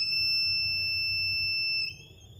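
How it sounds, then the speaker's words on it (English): A homemade water sensor alarm built on a breadboard with a buzzer and a 9V battery sounds a steady, piercing electronic tone that holds for nearly two seconds, then drops and shifts quieter, alone with no talking. "When you put your sensor in the water, it starts beeping."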